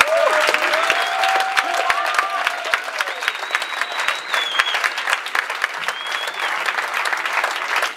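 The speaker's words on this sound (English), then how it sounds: "Let's give Minister Mitchell a round of applause" A church congregation breaks into loud, sustained applause during a Sunday evening service, steady clapping filling the room with a few scattered cheers rising over it.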